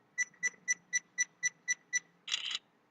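An AKASO EK7000 4K action camera counts down its self-timer with eight evenly spaced, faint, high electronic beeps, followed by a brief buzzing burst as the shutter fires.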